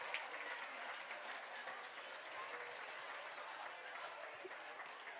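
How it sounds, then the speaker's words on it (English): Steady applause from an audience at a hybrid fundraising gala and live auction, continuous clapping that fills the room evenly from start to finish with no speech over it. "Let's give Bill a great big round of applause for buying that ticket."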